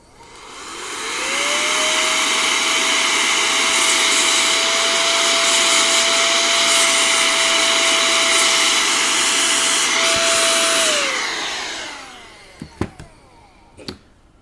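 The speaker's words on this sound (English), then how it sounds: "I don't really have any deoxit, so I'm just gonna air blast them." Canned compressed air blasts at the switches of an Apple Macintosh Plus, a loud, steady hiss that holds for about ten seconds and then stops, followed by a few clicks and taps nearby.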